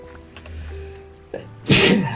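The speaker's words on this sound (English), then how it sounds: "I'm gonna be sneezing quite a lot." One loud, sudden human sneeze, preceded by a short sharp inhale, cuts through a quiet hum of Minecraft game background, near and alone with no talk.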